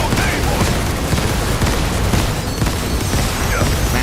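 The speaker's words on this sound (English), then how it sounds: "Massive explosion" A massive explosion goes off during combat in the video game Final Fantasy 7 Rebirth, with dense, booming bursts of blasts and crackling gunfire-like pops. It stays loud and continuous throughout.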